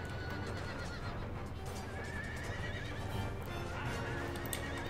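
Cavalry horses in Empire: Total War, dragoons and Cossacks in battle, whinny and gallop with steady clip-clopping hooves under a dense, continuous roar of combat noise.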